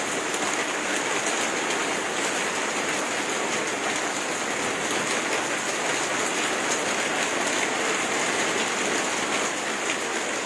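Steady rain falling, a dense, even hiss of drops on surfaces, continuous and fairly loud throughout, no talk.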